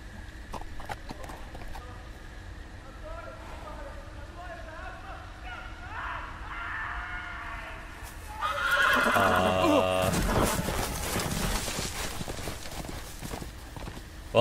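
A horse whinnies and its hooves clip-clop in a Game of Thrones video game scene, the neigh rising loudly midway amid other game noise, with people talking quietly before it.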